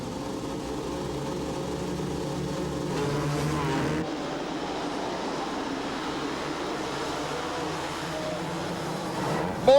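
A pack of motocross motorcycles roars off the start of a 125/250 race moto at Glen Helen, a dense, sustained engine drone that shifts and thins as the field pulls away.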